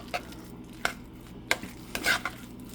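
Shepherd's pie filling being stirred in a pan: a few sharp scrapes and clinks of a utensil against the pan at uneven intervals over a faint low hum, with no talking.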